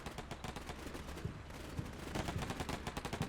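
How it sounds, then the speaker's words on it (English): In the Combat Mission: Black Sea war game, bursts of automatic gunfire rattle in quick, uneven volleys, with a few heavier cracks standing out. The firing sounds moderately distant and continues with no voices over it. "we're partially shooting our own vehicles"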